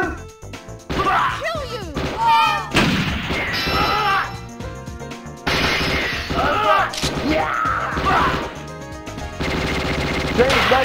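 Rapid gunfire from the Under Fire arcade shooting game, dense bursts of machine-gun shots mixed with crashes and explosions that play almost nonstop over game music and effects.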